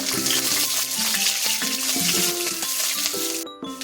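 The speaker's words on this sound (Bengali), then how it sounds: "উচ্ছেটাও ভেজে নেব" Bitter gourd sizzles steadily in hot oil as a dish is prepared for shukto, a soft constant frying hiss under louder melodic background music for the whole stretch, with a brief clatter near the end.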